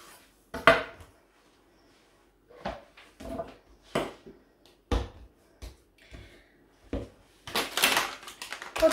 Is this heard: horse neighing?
no